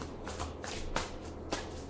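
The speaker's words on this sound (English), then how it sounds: "One more shuffle." Tarot cards riffle and slap together in a few quick bursts, crisp and close, with brief pauses between each shuffle.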